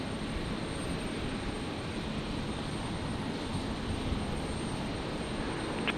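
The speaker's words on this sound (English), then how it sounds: "The Jetstar 320. Jetstar 823 heading down to Sydney." Jetstar Airbus A320, flight 823, departing Brisbane Airport for Sydney at night: a steady, broad engine roar at moderate distance, holding level throughout with no pauses.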